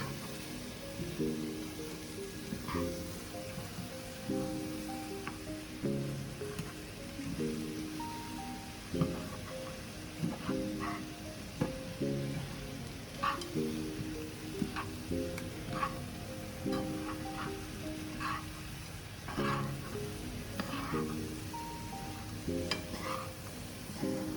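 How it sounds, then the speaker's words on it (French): Homemade granola stirred in a pan makes a steady low sizzle, with repeated scraping and rattling of the oats and clusters as a utensil works through them. The sound is close and quiet, with no talking. "On va bien mélanger pendant les 4-5 minutes qui restent."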